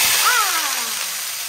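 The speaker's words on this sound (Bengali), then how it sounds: "তেলের মধ্যে একটু লাল লাল করে ভেজে নিই।" Something frying in hot oil until reddish gives a steady, fairly loud sizzling hiss, with a brief whistling tone that bends downward early on.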